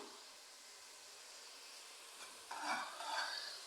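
Chana masala fries with tomatoes in a pan, a soft, low hiss at first that swells into a louder crackling sizzle for the last second or so.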